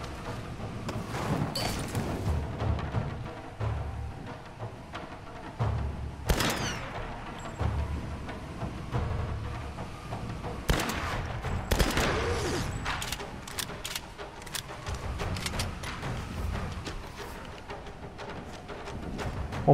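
Enemy gunfire in the video game Tomb Raider, with bursts of rapid shots and scattered single cracks at mixed distances, clustering in loud volleys near the start, middle and later, over a rumbling background.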